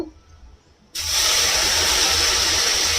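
Hot water poured into frying semolina in a pan bursts into a loud, sudden hiss after a quiet start, then settles into a steady, close steaming roar that lasts to the end.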